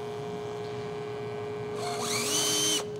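StripMeister wire stripping machine running slowly with a steady motor hum, then a rising high-pitched whine as the knife cuts in near the end before stopping abruptly, no talking.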